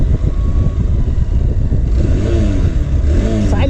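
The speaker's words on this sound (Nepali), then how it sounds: "साइलेन्सर भन्दा इन्जिनबाट बडी साउन्ड आउँछ है" A Hero Xpulse 200 motorcycle engine runs close by, a loud steady rumbling idle with a fluttering mechanical clatter and slight revving toward the end, with no talking over it.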